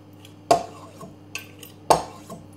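A utensil scraping stuck batter off a pancake maker: two sharp metallic clacks with softer scrapes and taps between them, close and clear with no talk.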